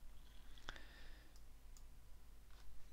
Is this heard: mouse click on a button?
yes